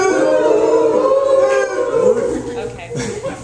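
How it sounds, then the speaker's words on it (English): A crowd at a live event hoots loudly in a sustained, howl-like chorus that slowly thins and fades toward the end. "if everyone could make a really loud hooting sound right now"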